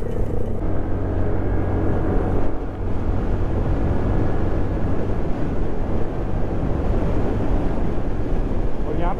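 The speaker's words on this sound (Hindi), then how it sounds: "इतनी गंदी साउंड निकल रही है ना इसकी बाइक।" A motorcycle on a group ride, its rough, loud exhaust droning steadily up close amid wind rush, with a rider's voice talking over it.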